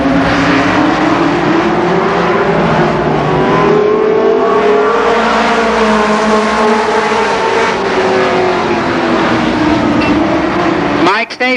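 Race cars roar past at Columbus Motor Speedway during a 1990 short-track memorial race, engines loud and sustained with pitch sweeping up and down as the pack circles, an announcer talking over the din.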